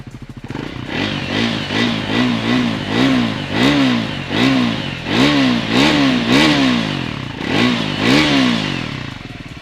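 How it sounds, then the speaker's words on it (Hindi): A Triumph Scrambler 400X motorcycle engine revs repeatedly, rising and falling in a steady series of loud throttle blips with a throaty, rumbling exhaust. "Let's hear the exhaust of this Scrambler 400X."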